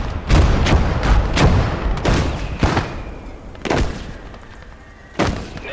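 Mortar fire in a World War II battle video game, a series of five or six heavy booms landing at irregular intervals, each a loud broad thud with a short decaying tail, no talking.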